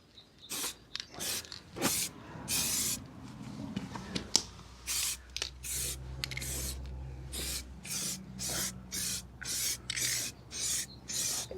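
Aerosol paint can spraying a rusty Jaguar XK8 subframe mount in repeated short hissing bursts, close and sharp, with brief pauses and a few clicks between squirts.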